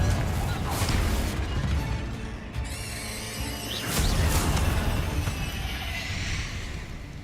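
The Confringo spell from a video game detonates against a barricade, a heavy crashing blast followed by a second burst that booms and rumbles before fading into scattered debris.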